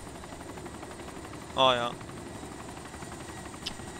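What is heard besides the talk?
helicopter flying in video game ArmA 2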